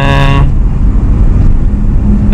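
A car jerking forward in first gear as the accelerator is pressed, heard as a loud, close, rough engine roar with a brief horn-like tone at the start, steady throughout, with no talking.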